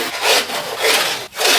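Wooden edges are rubbed with 220 grit sandpaper in three close, rasping back-and-forth strokes with a short pause between the last two.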